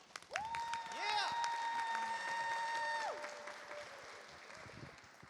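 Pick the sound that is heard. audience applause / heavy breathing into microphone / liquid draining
audience applause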